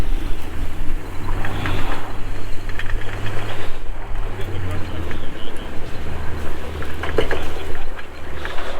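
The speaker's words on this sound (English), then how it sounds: "The guy's backing up his truck to pull this thing around right now" A truck engine idles and rumbles nearby as it backs up to tow a 1941 Case SC antique tractor outdoors, a steady low drone with a brief rise in revs, under ongoing talk.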